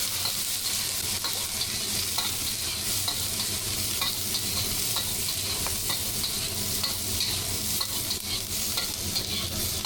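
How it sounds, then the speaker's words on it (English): Chopped garlic and two types of chili peppers stir-fried in a hot pan, giving a loud, continuous sizzle with scraping and stirring throughout. "pour in the 2 types of chili peppers we prepared and stir-fry"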